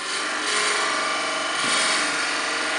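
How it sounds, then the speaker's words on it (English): A 7/16-inch drill bit bores into wood on a lathe, whirring steadily at close range, a dense buzzing grind that rises slightly in intensity partway through, with no talking. "I've got our 7/16 inch drill bit chucked up here."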